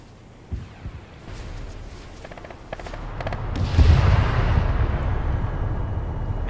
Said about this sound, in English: Now they're shooting at the infantry.